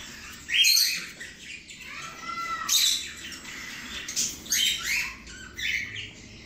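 Four nestling birds in an opened nest give loud, close squawking chirps in overlapping bursts, a shrill chorus rising and falling repeatedly without pause.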